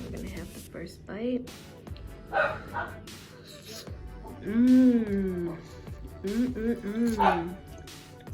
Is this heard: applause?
no